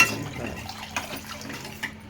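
Water poured from a glass into a pot of rice for Nawabi chicken bagara rice, a soft close splashing trickle with a few brief clinks, heard alone without talk.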